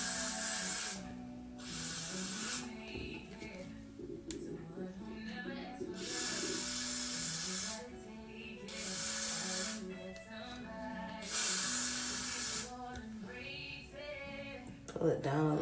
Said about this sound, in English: now we're gonna take the Gots to Be Glued spray